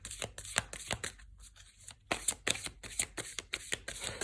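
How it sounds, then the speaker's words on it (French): Tarot cards shuffled by hand for a reading, a run of quick crisp riffling bursts and soft slaps with short pauses, close and moderately loud, no talking. "on va tirer une carte pour nous en dire déjà un peu plus de cette histoire"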